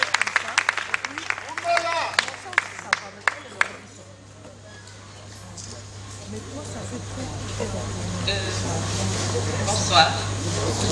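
An audience at an evening gala at Palm Beach gives a short burst of scattered clapping that thins out after a few seconds, followed by a voice speaking over faint room noise.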